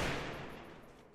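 Gunfire from a silenced weapon in the Free Fire battle royale game, a single dense burst fading over about a second, fairly quiet and with no talk over it.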